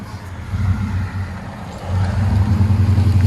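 A 1996 Chevy Silverado 1500 with a 5.7L V8 and Magnaflow true dual exhaust rumbles at close range, its deep engine note swelling into a heavier, louder rev partway through.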